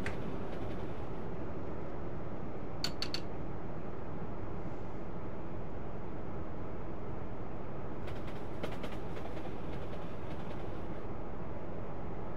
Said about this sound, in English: We're using the HST locomotive, or the high-speed train.